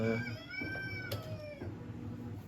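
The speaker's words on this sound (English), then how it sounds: "oh, that rooster" A rooster crows from some distance, a drawn-out cock-a-doodle-doo rising and falling over faint background hum, followed by a shorter call.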